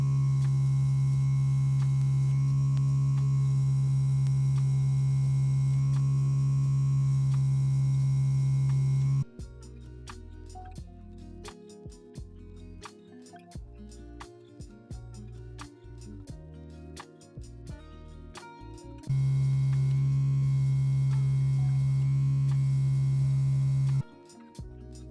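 A MYCHWAY diamond microdermabrasion machine runs as a steady, loud electric hum alone, cutting out to quieter clicks and handling noises for about ten seconds before the hum returns.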